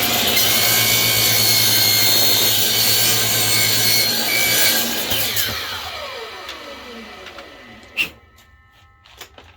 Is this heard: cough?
no